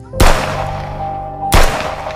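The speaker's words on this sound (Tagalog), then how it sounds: "Sunod-sunod ang putok, sigawan, mura." Two sharp, loud bangs about a second and a half apart ring out against a humming background, each with a brief echoing tail.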